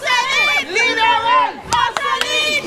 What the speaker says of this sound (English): The crowd is shouting. Libéré.